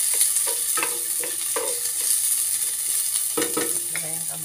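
Chopped tomatoes fry in a pan of pinakbet with chicken, giving a steady close sizzle under a bright hiss, broken by a few scrapes and knocks of stirring, with no talking.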